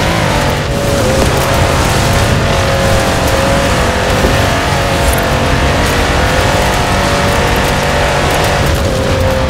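A 6x6 off-road truck, originally built for the Australian Army, drives in Forza Horizon 4 with its engine roaring loud, close and continuous at a steady, sustained pitch.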